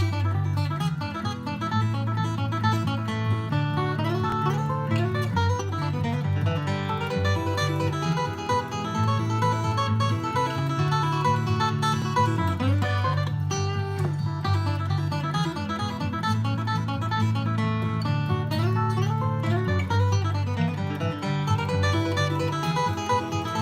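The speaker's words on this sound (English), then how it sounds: "So let me play the backing track here." Backing track for the bluegrass song Salty Dog Blues, a full, steady acoustic band groove with strummed chords and walking bass, playing continuously at an even level with no talking.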